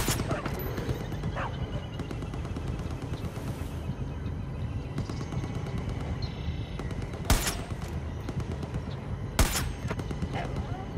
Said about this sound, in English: What are you guys firing at?